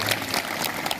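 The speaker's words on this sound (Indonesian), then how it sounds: "Tepuk tangan." Brief burst of clapping from an audience at a question-and-answer session on child bullying, dense and steady for about a second.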